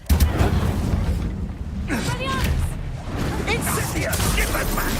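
An Incendio fire spell is cast in Hogwarts Legacy with loud whooshing, booming bursts amid dense game effects, as character voices speak over the action.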